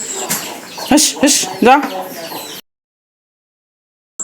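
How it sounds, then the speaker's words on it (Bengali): Chickens cluck in short, close bursts as they come in at dusk on a rural homestead, with a voice mixed in, before the sound cuts to silence. "আর এই যে মুরগি আসে ঢুকছে"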